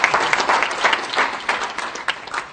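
An audience at a business talk claps together in steady, dense applause that fills the short moment, loud and close with no speech over it.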